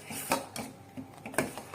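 A spoon scrapes and clinks against a pan while thickening milk is stirred for rasmalai, a few close, quick metallic knocks at an uneven pace.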